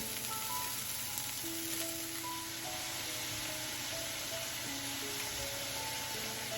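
Chopped broccoli and onions sizzle steadily in a hot pan for an Asian-style vegan cauliflower fried rice, a faint, even frying hiss with soft tonal music underneath and no voices.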